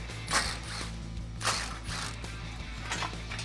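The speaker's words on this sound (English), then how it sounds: "All right, so I have a 10 millimeter ratcheting wrench." A 10 mm ratcheting wrench turning dust shield bolts on a 2015-2019 Mustang GT, giving rapid repeated clicking of the pawl with a few louder strokes, close and steady, with no voices.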